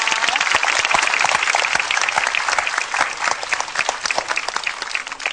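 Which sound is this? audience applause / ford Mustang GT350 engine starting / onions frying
audience applause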